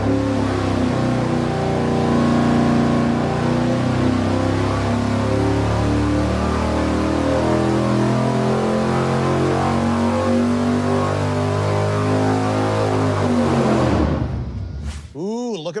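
A V8 engine fitted with stiffer pushrods roars on a dyno at high load, a loud, steady, harmonic-rich drone held for about fourteen seconds before it abruptly cuts off and winds down.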